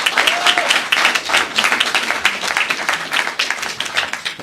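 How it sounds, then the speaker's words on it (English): An advocacy-day crowd on Capitol Hill gives a round of applause, loud dense clapping that rises and swells in waves and stays close throughout. "let's give him a round of applause"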